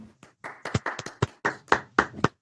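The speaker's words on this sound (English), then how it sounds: "I think we got to give ourselves a round of applause" A couple of podcast hosts clap in a small room, about a dozen close, crisp hand claps in an uneven rhythm with a little breath and voice between them.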